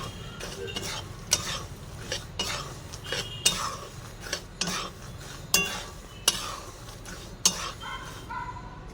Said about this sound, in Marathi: त्याला मी सतत हलवते, गॅस बंद करून घेतलाय तरी पण मी याला 2 मिनिटं अजून असेच हलवून घेते